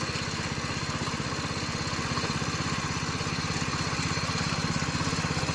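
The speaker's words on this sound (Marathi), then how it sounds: "इथे बघा वेदांतने ट्रॅक्टर धरले ना, पॉवर ट्रेलर" A power tiller's small engine runs steadily on a farm in a Konkan village, a low, rapid chugging pulse that grows slightly louder near the end, with no voices.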